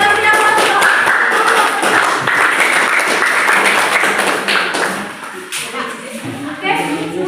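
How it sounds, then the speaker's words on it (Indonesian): Audience applause in a school hall during an Indonesian student event, a dense steady wash of clapping hands that holds for several seconds and then thins toward the end. "Kita beri aplaus untuk"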